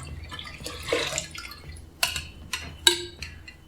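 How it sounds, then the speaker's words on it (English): A homebrew beer sample is poured back into the fermenter, giving soft splashes and a few sharper drips and plops, quiet and close, with no talking. "Pour that back in."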